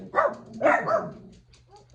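A dog barks twice in a room, two loud, close yips about half a second apart, followed by a quieter short yelp at the end.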